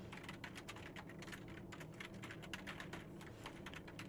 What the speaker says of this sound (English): here, I'm going to type in my name and my mailbox